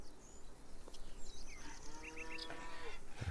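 Cows moo in the farming video game Farmer's Dynasty: a drawn-out bovine low with rising and falling pitch, heard over steady outdoor ambience with a few brief chirps.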